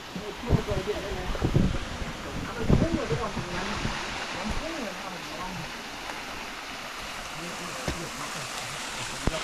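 Water rushes steadily down a multi-tiered jungle waterfall, a continuous close roar, while several people talk over it and occasional louder splashes break through.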